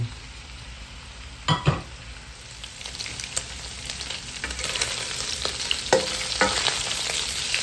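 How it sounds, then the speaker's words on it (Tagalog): Pork pieces frying in a pan until golden brown, a steady crackling sizzle with scattered sharper pops and spatters, loud and close, with no talking. "ipiprito muna natin siya hanggang maging golden brown"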